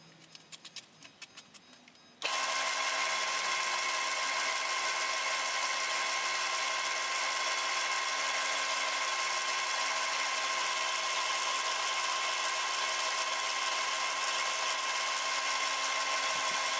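A cigar pen blank on a lathe is sanded with automotive sandpaper, giving a steady, loud, continuous high whir and hiss that starts abruptly after a few light taps and runs on without pause.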